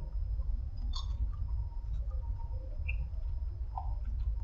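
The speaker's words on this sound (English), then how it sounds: "The candy shell is already so crunchy." Crunchy Reese's Pieces with peanuts candy being chewed close up, with a steady low crunching and a few sharper crackles of candy shell as the chewing continues without talk.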